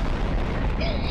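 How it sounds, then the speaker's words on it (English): Bombs going off in a video game, a continuous deep booming rumble filling the short moment with a brighter hiss rising near the end, loud and close. "It was a couple of normal bombs."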